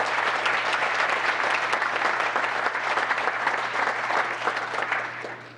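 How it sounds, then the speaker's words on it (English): An audience at a town council meeting gives a round of applause for a long-serving staff member, a dense, steady clapping that stays loud and even for several seconds before easing slightly at the end. "can we just share a round of applause for Smiley for all his years of work there."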